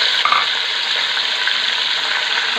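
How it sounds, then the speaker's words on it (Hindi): Loud, steady sizzling and hissing from a hot pan as water hits frying garlic and ginger, continuous throughout with no voices. "थोड़ा सा हम पानी का छींटा लगाएंगे"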